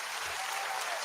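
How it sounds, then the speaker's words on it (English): A burst of recorded applause is dropped in as a sound effect on a talk radio broadcast. It is steady and dense, with no pauses, and sits at a fairly low level. "Hit him some applause and some laughter"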